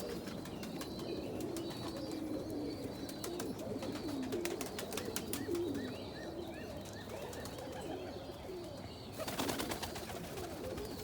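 Pigeons coo softly in a loft while eating greens in the morning, with low, continuous cooing, occasional wing flaps and sharp pecking clicks.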